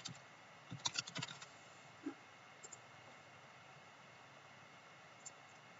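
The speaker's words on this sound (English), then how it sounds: "Let's type in shortboards." Typing on a computer keyboard: a short burst of quick, light key clicks near the start, then a few isolated taps, faint and close against a steady hiss.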